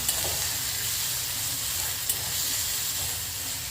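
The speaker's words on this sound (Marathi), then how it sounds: "पहिले कांदा आणि आलं लसणाची पेस्ट छान परतली की बाकीच्या भाज्याही परतायला वेळ नाही लागणार" Onion and ginger-garlic paste sizzle steadily in a pan for Indian-style veg hakka noodles, a constant close frying hiss with faint stirring and no voices.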